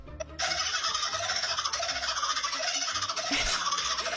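An Australian kookaburra gives a rapid run of high, squeaky, chattering calls with clicking trills, much like a cartoon dolphin.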